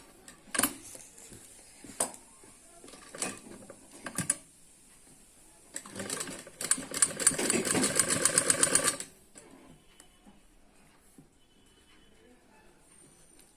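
A sewing machine stitches the hem of a Punjabi suit: a few scattered clicks and short runs, then a steady loud whirring run of stitching for about three seconds before it stops, fairly close.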